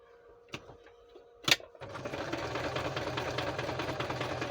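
A sewing machine runs steadily, stitching through paper journal cards made from book pages, with a continuous close mechanical whirr after a couple of brief handling knocks at the start.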